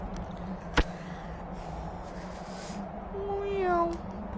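A single cat meows with a rising-then-falling tone near the end, after a sharp click, over steady low background hum.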